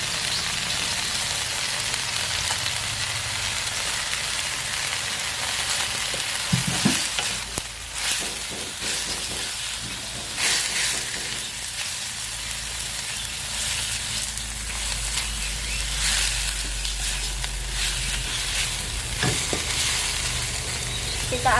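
Bamboo shoots fry with spices in a pan for a mangut-style smoked fish vegetable dish, a steady close sizzle with repeated scraping stirs and clinks throughout.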